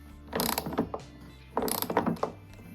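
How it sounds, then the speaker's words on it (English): A socket wrench ratchets in two quick bursts of clicking, close and clear, while tightening the quick disconnect on a Honda generator being converted to propane. "we're going to tighten the quick disconnect using a socket wrench"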